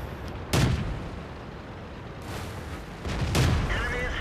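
Two heavy tank cannon shots from World of Tanks boom out about three seconds apart, each a sharp blast trailing into a rumbling decay over a background of battle noise.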